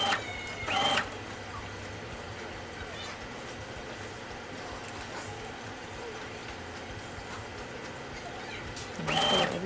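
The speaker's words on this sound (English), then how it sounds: "just start driving it right back through the sewing machine once again" A sewing machine stitches a frontal wig cap, whirring in loud bursts at the start and again at the end, with a quieter continuous hum between.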